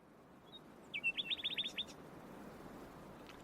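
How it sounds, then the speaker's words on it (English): Nightingales sing at night as a radio drama effect: a quick run of bright, repeated chirps stands out briefly over a steady soft hiss, fairly faint and distant. "That night I was kept awake by the unrelentingly beautiful song of the nightingales"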